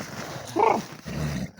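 Dogs outdoors give a short, moderately loud bark or yelp amid faint background noise, during a wolf encounter on horseback.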